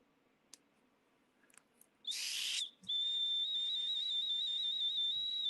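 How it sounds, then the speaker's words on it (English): A whistle shaped as a joined serpent and duck blows loud and shrill with a breathy burst, pauses briefly, then holds a long steady high tone to the end, close by. "this whistle here shows like the joining of the serpent and the duck"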